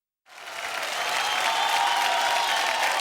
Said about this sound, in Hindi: अब ताली बज गई